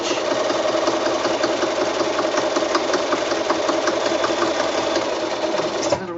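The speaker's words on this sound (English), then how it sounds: "just zigzagging so that it goes right over the edge of that seam" A sewing machine zigzag stitches steadily over the edge of a seam on a small quilted snap bag, running close and continuous at an even rapid rhythm before slowing at the end.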